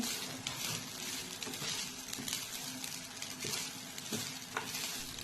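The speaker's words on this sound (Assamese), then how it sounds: "এতিয়া গোটেইখিনি লৰাই থাকিম" Scraping and stirring of vegetable pulao in a sizzling pan, with steady frying crackle and occasional clinks of a utensil against the metal.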